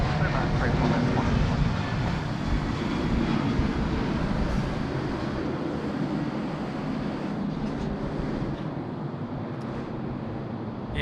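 A Qantas airliner roars in to land at Sydney Airport, a loud, steady jet rumble filling the whole stretch without letup.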